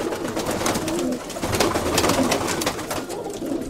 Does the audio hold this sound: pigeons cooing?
yes